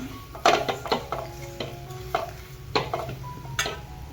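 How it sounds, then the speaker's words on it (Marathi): Chili powder is stirred in hot oil in a pan while cooking a traditional Maharashtrian dish, with a soft background sizzle and intermittent scraping and clinking of a spoon against the pan. "याला पण चांगलं परतून घेऊया।"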